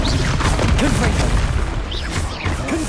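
Confringo spell blasts from Hogwarts Legacy combat: loud, dense crashing bursts and whooshing impacts layered with other spell effects, continuous and close throughout.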